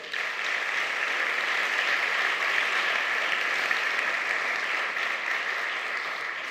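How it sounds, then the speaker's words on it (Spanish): Steady, even applause from a church congregation during a sermon, a continuous hiss of many hands sustained for several seconds at moderate volume with no speech over it. "Pues dale un aplauso al rey."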